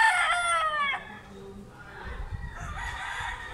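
A two-year-old fighting rooster of the balibog coloring crows loudly and close, a harmonic call lasting about a second, followed by softer clucking and scratchy rustling.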